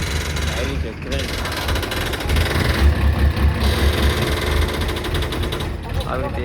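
A large crane's engine idles at a mill, a steady low rumble with pulsing throb near the middle, mixed with voices talking nearby.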